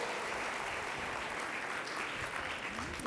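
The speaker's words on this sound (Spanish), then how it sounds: "quiero que demos un aplauso a todos los que llegaron hoy" A church congregation applauding those who came to the service, sustained crowd clapping that carries steadily from start to finish, fairly distant and moderate in level.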